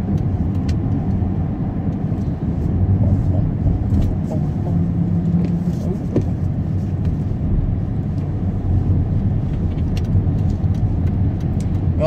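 A car drives through Canterbury, Kent, at night, with a constant close engine and road rumble from inside the cabin and faint clicks scattered throughout.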